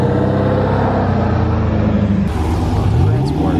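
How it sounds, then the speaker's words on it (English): A loud Chevrolet Camaro rolls into a car meet with a heavy, close exhaust rumble that holds steady and then climbs in pitch near the end. "Got a really loud Camaro coming in."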